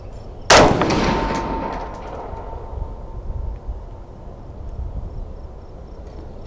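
One sharp, loud crack from an Armalite Super Sass .308 rifle at a target range, followed by a long rolling echo that slowly fades into the quiet outdoors.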